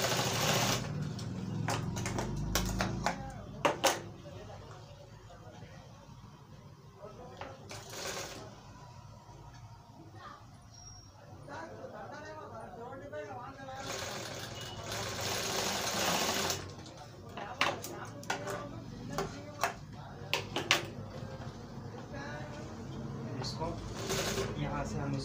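A sewing machine stitches a cloth face mask in several rapid whirring runs, close and loud, with pauses between them where a person talks.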